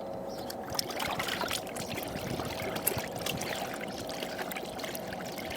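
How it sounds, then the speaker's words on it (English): Rinseless car wash concentrate is poured into a plastic bucket, making a continuous splashing, trickling stream that holds steady at close range throughout. "we're going to put 60 mils of product into the bucket here"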